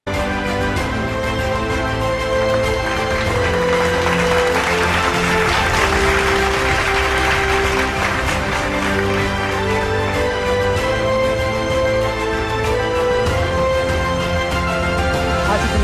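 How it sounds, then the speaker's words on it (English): Sustained, dense applause from an awards ceremony audience honouring the final awardee, loud and steady throughout with music-like tonal bands running beneath the clapping. "let's have a huge round of applause for our final awardee this evening"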